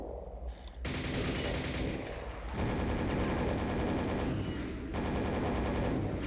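Sustained rapid gunfire from the video game Quake, loud continuous bursts of shooting with short gaps between volleys.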